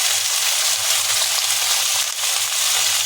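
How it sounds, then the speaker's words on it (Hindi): Shredded cabbage fries and is stirred in a hot pan for a home-style bandh gobhi dish, giving a loud, unbroken close-up sizzle with no voices. "अब इसमें उठा के बंधा ये डाल देंगे, ये बंधा डाल देंगे, इसको मिक्स कर देंगे।"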